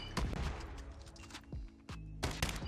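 The NA45 sniper rifle fires in Call of Duty Mobile, with several sharp, loud shots and echoing booms in quick succession over about three seconds, with no talking over them.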